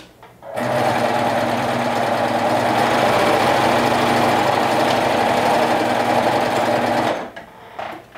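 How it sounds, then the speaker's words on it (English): A sewing machine runs loud and close while top stitching with Tex 30 thread, a continuous fast whirring clatter that starts abruptly, holds steady for about six and a half seconds, then stops. "So now I'm top stitching both sides."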